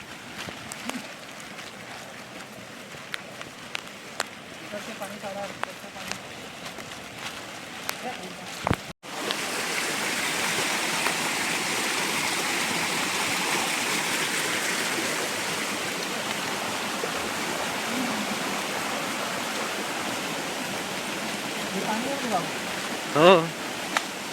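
Floodwater rushing across a farm field in a village after torrential rain, a steady broadband roar of flowing water close by that fills the clip after a brief quieter start with some handling noise.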